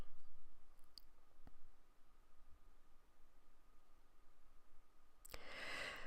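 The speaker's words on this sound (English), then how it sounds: "I will cut the excess page off" Excess paper trimmed off a mixed-media index card: after near silence with a soft click, one short, crisp, bright cutting rasp comes near the end, close and fairly clear.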